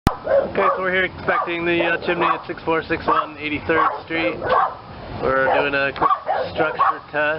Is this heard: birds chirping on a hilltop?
no